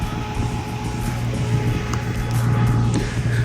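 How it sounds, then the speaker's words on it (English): A supercharged Coyote V8 swapped into an SN95 Ford Mustang runs with a loud, steady low rumble and a faint whine, heard close and alone. "The car is a little bit loud?"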